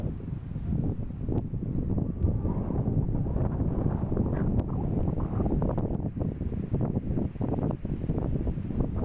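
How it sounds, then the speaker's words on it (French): Strong wind buffets the microphone continuously on a golf course, a loud low rushing roar with gusty fluctuations and no talking. "Beaucoup de vent."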